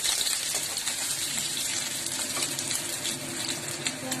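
Onions hit a hot pan and sizzle loudly and continuously, with scattered pops and crackles throughout.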